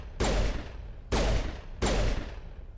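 Three separate loud bursts of gunfire ring out in Mass Effect, each a sharp blast with a lingering decaying tail, spaced less than a second apart with no talking.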